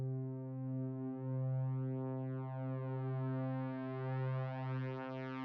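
Moog Sirin synthesizer run through a plugin chain plays a sustained, evolving atmospheric pad with a steady low drone and slowly shifting, slightly detuned upper harmonics, loud and alone without speech.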